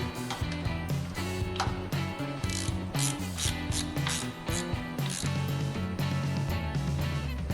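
Manifold screws on a tunnel ram and throttle body tightened with a ratchet, giving a dense, continuous run of rapid mechanical clicks and pawl chatter close up, with no talking.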